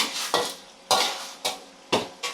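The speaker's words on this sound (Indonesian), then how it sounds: "Nah, kita aduk terus." A spatula scrapes and stirs stir-fry in a pan, with four distinct rhythmic scraping strokes at close range and a faint sizzle between them.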